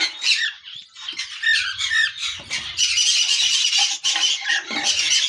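Albino budgerigars and their chicks in a breeding box give loud, close squawks and shrill squeaks, overlapping almost without pause, with some faint low rumbling underneath.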